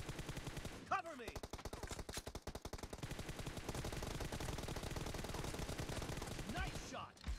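An M416 rifle fires in a video game shootout, with rapid automatic bursts in a dense, sustained rhythm and a few sweeping game effects.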